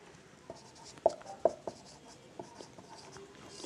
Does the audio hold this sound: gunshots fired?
no